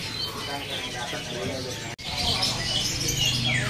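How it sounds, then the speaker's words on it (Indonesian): A large kadalan bird calls from a bird market kiosk, its chirps mixed into dense, steady market noise and background voices, with a brief drop in sound midway. "Ini ada burung kadalan besar ya. Wah burung unik nih."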